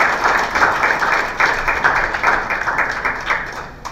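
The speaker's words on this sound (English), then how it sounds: "A hand of applause to His Excellency the Deputy President." Dense, continuous applause from a crowd at a forum with deputy governors, greeting Kenya's Deputy President. The clapping is loud and steady and stays at an even level throughout.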